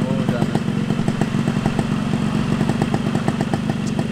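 A freshly serviced two-stroke motorcycle engine idles close by with a steady, rapid buzzing putter and fine rattling clatter, continuous and loud throughout.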